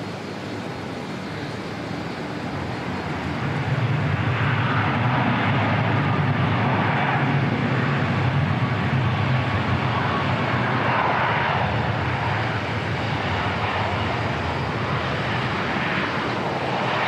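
Fixed-wing aircraft at Auckland Airport, among them two American planes, rumble with a steady, loud engine roar that builds after a few seconds and holds, broad and sustained, with no talk.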